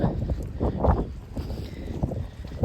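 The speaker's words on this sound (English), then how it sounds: "I'm sure these gusts must be 30-40 miles an hour at least" Strong gusts of wind during a storm buffet the microphone in rough, uneven surges, rumbling and roaring with brief lulls between blasts in an outdoor town setting.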